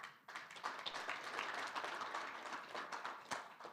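Light applause from a law school workshop audience, a thin scattered round of clapping that sounds fairly distant and modest, with a murmur of voices underneath.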